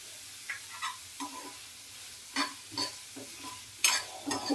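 Chopped onions with salt stirred in a hot pan, a faint steady sizzle broken by soft irregular scraping strokes of a spoon against the pan.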